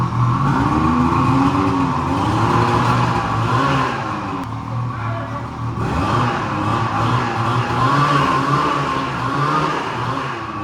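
Homemade turbo snow vehicle driving out on snow tracks, its engine droning loudly and close for a long stretch, rising and falling in pitch as the throttle changes, with no voices over it.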